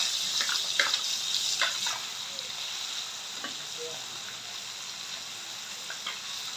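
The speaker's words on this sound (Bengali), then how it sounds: "মাছগুলো লাল করে ভাজা হয়ে গেছে, এখন নামিয়ে নিব" Stinging catfish fry in hot oil in a pan. A continuous bright sizzle runs throughout, with small pops and a few utensil scrapes over it.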